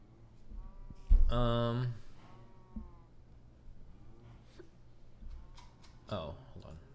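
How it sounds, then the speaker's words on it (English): Farm animals in a video game give a loud, drawn-out bellow followed by fainter calls, heard under someone talking through a stream. "I like listening to the cows."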